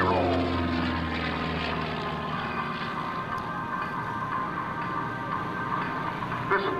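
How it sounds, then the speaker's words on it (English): A propeller plane's engine drones loud and steady during an air show aerobatic routine, a continuous throbbing roar with no break, heard close up. "This is a fun airplane to fly, and Chuck flies it from the right side."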